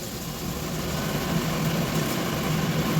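Steady droning kitchen exhaust fan noise during cooking, a constant low whoosh and hum filling the background with no voices.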